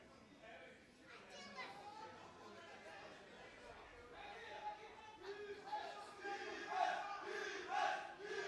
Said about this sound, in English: defense cheers are coming from the crowd.